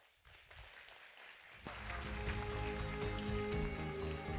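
An audience at a Korean HR conference session bursts into applause after a presentation; it starts faintly, then swells into dense, sustained clapping that continues to the end.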